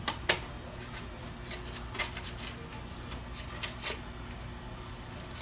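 Scissors snip through a tube during a small-tire no-prep race car build, a few faint, sharp crunching cuts spaced irregularly over a quiet background hum.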